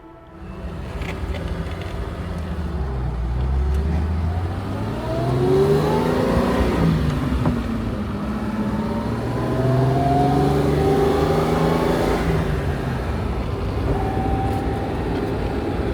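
A Mercedes-Benz 280SL Pagoda drives along, its engine note rising and falling through the gears with a steady road rumble, heard from inside or close by with no talking.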